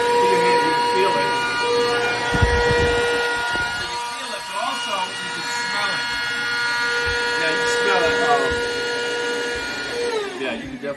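A Rainbow SRX vacuum cleaner runs with a steady, loud motor whine and sustained tonal hum close by, while someone talks over it throughout.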